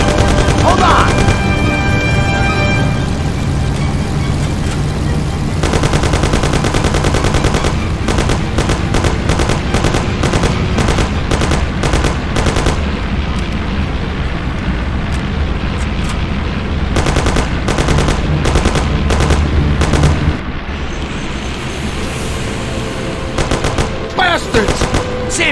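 Loud, sustained gunfire from the Mafia video game: continuous rapid automatic bursts with sharp individual cracks, close and dominant throughout, easing to a quieter stretch near the end with shouting voices underneath.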